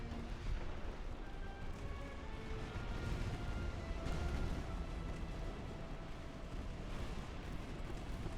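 Battleship main guns thunder in a naval battle in Ultimate Admiral: Dreadnoughts, a steady, dense rumble of distant booms layered over one another, fairly quiet and unbroken.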